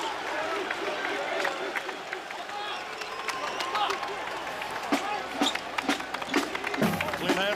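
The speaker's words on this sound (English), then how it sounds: "Applauding a good defensive effort." A packed arena crowd at a 1990 college basketball tournament game claps and cheers amid sneaker squeaks and ball bounces, a steady dense roar running underneath a commentator's voice.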